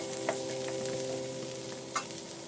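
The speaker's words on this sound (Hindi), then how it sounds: "इसे भी थोड़े देर के लिए स्टर फ्राई कर लेंगे" Large onion petals stir-fried in a pan for chicken manchurian, a soft steady sizzle with occasional light scrapes of a spatula, close and quiet with no talking.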